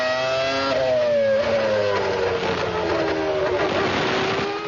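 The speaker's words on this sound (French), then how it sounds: "Écoutez le moteur Mercedes" Mercedes-engined Formula 1 car at the 1998 Luxembourg Grand Prix passes with a loud, high screaming engine note whose pitch steps up through gear changes and then falls away as it passes by, heard alone.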